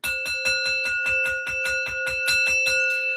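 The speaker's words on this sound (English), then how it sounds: "Where's my bell?" A bell rings in a fast, steady run of about a dozen bright, close strikes, each leaving a sustained metallic ring that carries on until the strikes stop.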